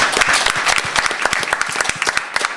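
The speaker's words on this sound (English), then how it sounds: "Let's give them a round of applause." An audience applauds the panelists at a marketing and distribution panel, a close, lively burst of many hands clapping that gradually thins out.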